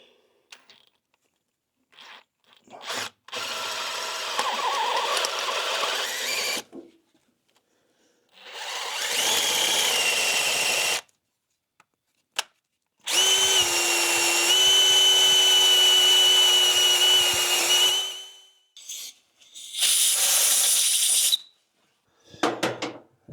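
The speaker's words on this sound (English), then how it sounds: "So as long as I keep my drill bit perpendicular to" A power drill bores into the cast engine block of a 1968 Camaro SS 396, running in four separate whining bursts of several seconds each with short silent pauses between them, close and loud.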